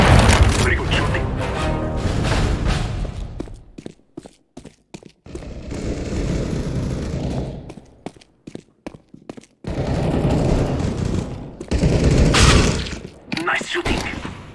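Gunfire in a CS:GO team deathmatch on the Tuscan map: dense bursts of automatic and single shots with booming cracks, broken by short silent gaps, while game announcer voice lines sound over the shooting.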